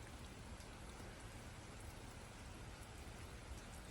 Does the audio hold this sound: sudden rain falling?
yes